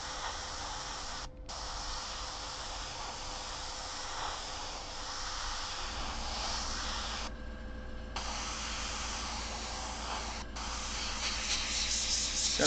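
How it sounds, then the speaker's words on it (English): An airbrush used for painting a rust finish blows a steady soft hiss of air close by, broken by a few brief pauses, with no talking. "You can just use the air from the airbrush."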